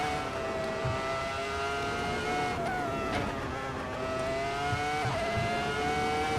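A Formula One car from F1 2003 races around the A1 Ring in Austria with its engine screaming at high revs. The pitch climbs and drops through gear shifts, loud and continuous, with no talking.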